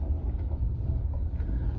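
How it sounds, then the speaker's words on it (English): Low, continuous thunder rumbles through a stormy outdoor scene in Kufstein, Austria, a steady deep roll without sharp cracks and with no talking. "can you hear that thunder?"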